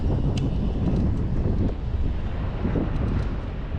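Strong wind buffets the microphone in a continuous low, rumbling roar, loud and unbroken throughout, while riding a Hiboy S2 Max electric scooter in Las Vegas.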